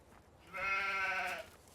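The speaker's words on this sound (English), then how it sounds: "the sheep kind of wander around and whatnot" A single drawn-out sheep bleat from Farming Simulator 17, mid-loud and close, alone over a quiet background.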